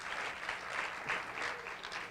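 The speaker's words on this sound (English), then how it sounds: "I didn't expect a hand clap." Audience applause at a restorative justice community event in Seattle, a steady wash of hand clapping from a crowd that rises and falls slightly over two seconds with no voices on top.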